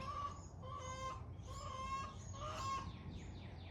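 Several chickens clucking in short bursts, close by in a garden in June, with a steady low background hum and no talking.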